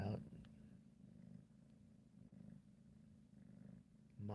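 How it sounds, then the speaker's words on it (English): Steady low rumbling purr from a cat, close by, continuing without a break. "Mom's still purring."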